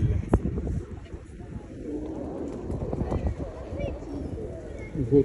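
Pigeons coo softly in the background while people talk nearby, with outdoor clatter mixed in, in Alexandra Park, Manchester, on a sunny day.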